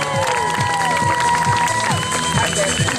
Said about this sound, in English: Thanks for cheering